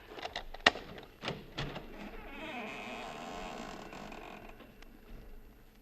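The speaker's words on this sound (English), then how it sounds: "Maybe you heard the hinge squeak a little." A front door creaks open on its hinges in an old radio suspense drama, a drawn-out squeaky groan with a few sharp clicks at the start, fairly close and moderately loud.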